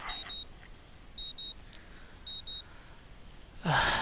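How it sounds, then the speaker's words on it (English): Morning alarm clock in the visual novel game Katawa Shoujo beeping in three short bursts of paired high tones, clear and close, followed by a louder rustling sound near the end. "The morning alarm sounds and I roll over, switching it off."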